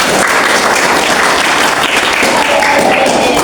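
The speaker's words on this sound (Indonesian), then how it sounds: "Oke, tepuk tangan untuk kalian semua." A classroom of eighth-grade students claps together, a loud, dense burst of hands close by that holds steady throughout, with a few voices faintly mixed in.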